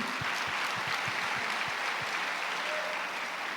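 A church congregation applauds during a sermon, with sustained dense clapping from a crowded room. A few louder individual claps stand out near the front in the first couple of seconds.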